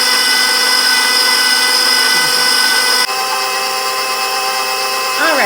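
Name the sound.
electric mixer whisking eggs for lemon blueberry bundt cake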